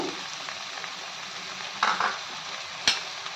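Dried prawns coated in chilli powder and salt fry in oil, a constant sizzle broken by a few louder scraping stirs and a sharp clink against the pan.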